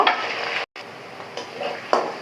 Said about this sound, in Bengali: পেঁয়াজ কুচি দিয়ে দিয়েছি এখন আমি বাদামি কালার হওয়া পর্যন্ত অপেক্ষা করব